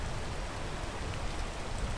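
Rain falls in the video game PEAK as a steady, even hiss of drops, close and continuous with no other sound.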